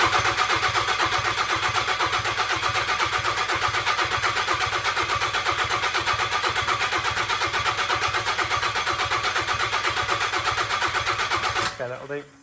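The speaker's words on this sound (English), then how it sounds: "we won't start because I've pulled the lead out, but it should hopefully turn over all right." A Nissan Figaro engine cranking over with the ignition lead pulled so it cannot fire, a steady rhythmic starter churn held loud and close for about twelve seconds before cutting off.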